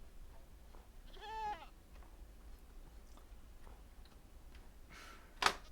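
A short goat bleat rings out in a Minecraft-style modded game on a mountain spot, one harmonic wavering call of about half a second, fairly clear, over a quiet ambient hiss with faint ticking and a brief sharp click near the end.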